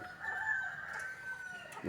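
Chickens and a rooster call out at a home yard, a sustained crowing or clucking tone carrying across a brief, moderately faint stretch with no talk.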